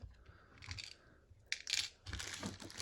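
Small acrylic star-burst embellishment pieces scatter across a craft table, giving light scattered clicks and skittering taps in several bursts, with a louder clatter partway through and a busy patter near the end.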